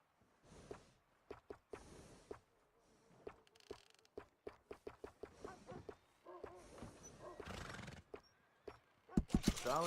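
A horse at a stable in the Red Dead Redemption 2 video game: a string of sharp hoof clops and footsteps, with occasional neighs and snorts. Sounds are moderately close and intermittent, with a busier burst near the end.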